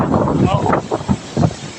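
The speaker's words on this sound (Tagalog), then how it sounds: "Tapos malakas yung hangin niya." Strong wind at the beach gusts and rumbles against the microphone in a constant broadband roar, while a person talks close by over it.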